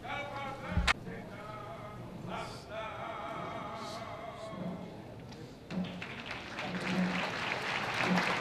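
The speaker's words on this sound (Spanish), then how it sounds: "esos aplausos que rompen el silencio de la noche de este Vía Crucis" Scattered applause from a crowd at a night-time Holy Week Vía Crucis procession, rising toward the end amid outdoor murmur, with a sung voice and a sharp thump early on.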